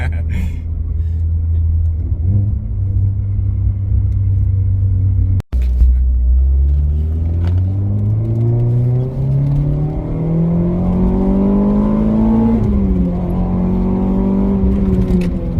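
A Renault Clio RS engine revs up with a rising tone, heard through an open window, a brief cut partway through, then keeps accelerating and shifting pitch, loud and close throughout.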